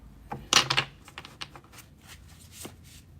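A quick riffling burst of oracle cards being shuffled, followed by softer scattered flicks and taps of cards, close by.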